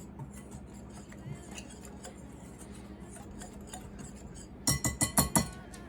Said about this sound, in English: Go ahead and give this a whisk and just kind of lighten everything up.